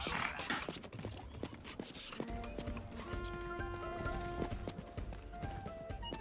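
Horse hooves clatter in a steady galloping rhythm in the video game Rustler, with a neigh rising over the game music and sound effects, close and fairly loud throughout.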